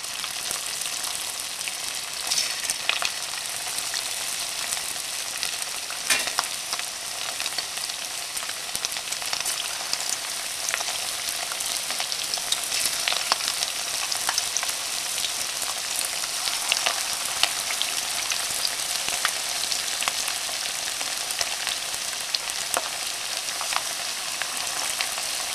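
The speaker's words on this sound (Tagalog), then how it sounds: "Then, fry natin yung pork natin." Pork frying in a pan for sweet and sour pork: a dense, continuous crackling sizzle that holds steady and close throughout, with scattered sharper pops.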